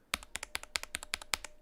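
Mechanical keyboard built from a Monokei Standard kit, typed on at close range: a quick, evenly paced run of about a dozen crisp keystrokes, each with a short bright ring from the switch springs, heard alone.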